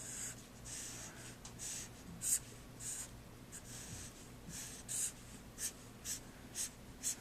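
Pen or marker strokes drawing a rectangular box for a math lesson, a series of short, soft scratchy lines with small gaps between them, close and faint.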